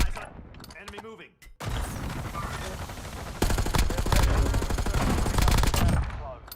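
Rapid automatic gunfire from a video game, loud sustained bursts and crackling volleys that grow denser and heavier midway after a brief quiet gap, with some voices talking underneath.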